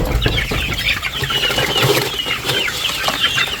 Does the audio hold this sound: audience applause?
no